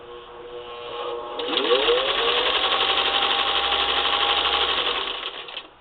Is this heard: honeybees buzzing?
no